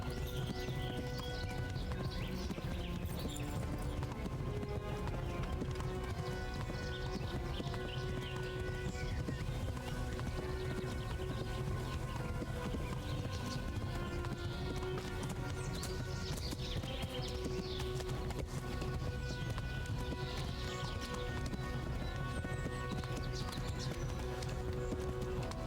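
Horses gallop in the medieval video game Kingdom Come: Deliverance, a continuous rapid clip-clop of hooves held at a steady loud level throughout, with steady tonal background music and an occasional whinny.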